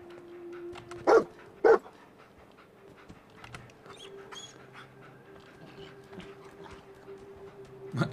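Two sharp, loud dog barks in Fallout 4 ring out close together early on, over a low, steady game-music drone.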